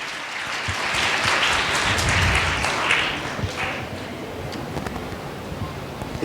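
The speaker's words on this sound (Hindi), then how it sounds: "जोरदार तालियां, ऑडियंस तालियां बेकरार रहनी चाहिए।" An audience at a state-level quiz competition in Chhattisgarh applauds, a broad wash of clapping that swells for the first few seconds and then thins out toward the end.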